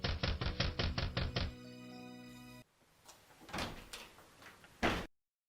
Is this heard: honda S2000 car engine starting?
no